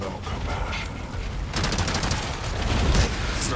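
Rapid MP5 submachine gun fire in a Resident Evil video game rattles off in quick bursts over steady game noise, with bursts continuing through the second half.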